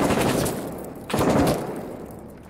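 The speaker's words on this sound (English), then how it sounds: "I think this dude shooting at my corner wall." Enemy automatic fire rakes a corner wall in Six Days in Fallujah, two close, loud bursts of rapid shots about a second apart, each trailing off.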